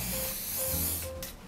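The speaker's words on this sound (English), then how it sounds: "So now give it a quick spray" Hairspray from an aerosol can gives one quick, steady hiss onto a 1940s roll updo on long hair, close and continuous for about a second before it tapers off.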